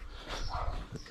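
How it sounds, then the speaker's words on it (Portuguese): A loose dog at a house gives a brief, close, muffled bark-whimper, loud and rough, with a hint of voices in the background. "Ah, o cachorro tá solto"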